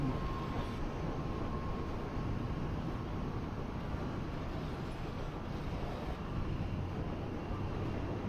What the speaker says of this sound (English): lugging it from 70 kilometers an hour in 6th gear